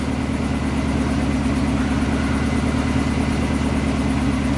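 A Nissan 240SX engine idles with its idle speed dropping, giving a loud, steady, low rumble heard close and alone with no talk.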